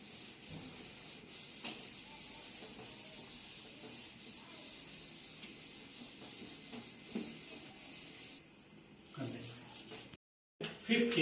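Steady rubbing of an eraser or cloth wiping a board clean between physics diagrams in a classroom lesson, a continuous scrubbing texture with faint voice underneath, ending in a brief pause and a few louder knocks.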